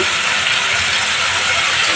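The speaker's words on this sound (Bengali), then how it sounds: "দেখো এই যে ভাজা হচ্ছে এবারে।" Potato fritters fry in a pan of hot oil, giving a loud, dense, unbroken hiss that stays level from start to finish, close to the ear, with no clear talking.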